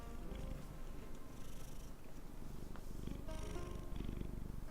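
A pet cat lying on a lap purrs steadily, a low fluttering rumble close by and quiet, continuous for several seconds with no voices.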